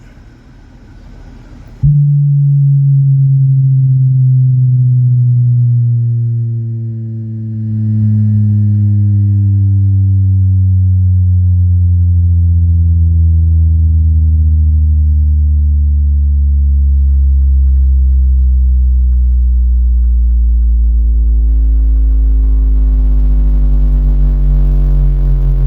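A subwoofer box in a Tacoma plays a loud, steady low bass test tone that starts abruptly and holds for over twenty seconds, dipping deep toward the 30 Hz range with a strong humming rumble and no talk.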